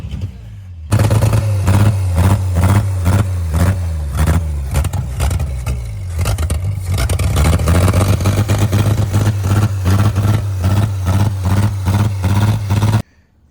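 An old car engine in Mexico runs roughly after carburetor trouble, loud and close with a low, steady throb and repeated sharp revs and pops, then cuts off abruptly near the end.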